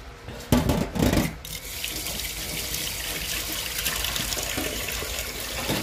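Water splashes and runs while a refrigerator is washed, with a couple of louder bursts of spray early on, then a steady close trickle and rinse continuing to the end.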